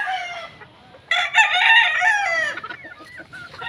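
A gamefowl rooster of the Raptor line crows once on a farm, a loud, close, drawn-out call lasting over a second after a few quieter clucks, then trailing into softer clucking.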